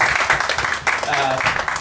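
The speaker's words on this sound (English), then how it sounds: "Round of applause for my guest." Studio audience applause for a guest at the end of an interview, a steady dense patter of clapping throughout, with a voice speaking over it.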